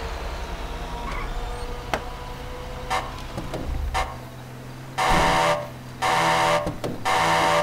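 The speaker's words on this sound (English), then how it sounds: "I set off the alarm." Electronic fire alarm sounding in a fire call-out video game: repeated loud buzzing blasts around the five-second mark, following quieter clicks and interface tones.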